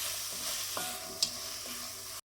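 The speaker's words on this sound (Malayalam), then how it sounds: "ഇനി നന്നായിട്ട് മിക്സ് ചെയ്തിട്ട് സവാള വാട്ടിയെടുക്കാം" Sliced onions sauté in a pan for prawn biryani, giving a quiet, steady sizzle broken by a few soft stirring scrapes.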